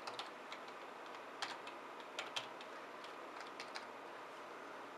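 Faint clicks of a computer keyboard as an IP address is typed, light irregular keystrokes over a quiet hiss.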